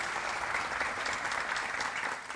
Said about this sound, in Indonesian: Saya minta tepuk tangan yang meriah untuk narasumber saya pada malam hari ini